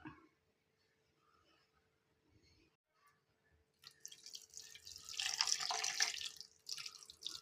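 Water is poured into a cooking pot of ripe mango for pulissery: quiet stillness with faint clinks at first, then a splashing, trickling pour that builds loudly over the last few seconds.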